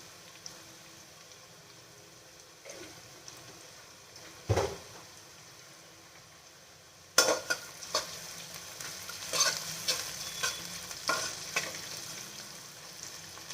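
Chopped onions with a little salt fry in a pan for bagara rice, giving a low, steady sizzle. Stirring scrapes and clatters come through, and the sound grows busier and louder partway through.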